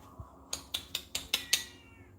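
A cat gives six quick, evenly spaced meows in a row, fairly close and clear against a quiet background.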